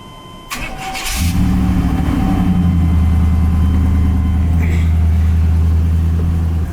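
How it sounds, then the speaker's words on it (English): Chevrolet OBS K1500 pickup truck engine cranks briefly and catches, then settles into a steady, loud, close idle that runs for several seconds with a deep even rumble. "I'll start the truck up for y'all so y'all can hear it running."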